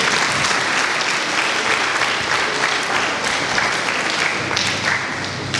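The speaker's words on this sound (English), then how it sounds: "Please let's clap for the graduating service." An audience at a graduation ceremony applauds the graduates, a dense, sustained wash of clapping from a large crowd, loud and continuous throughout with a slight tapering near the end.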